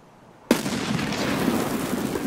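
A sudden sharp grenade blast in a video game firefight, followed by a sustained roar of explosion noise and scattered gunfire, loud and close.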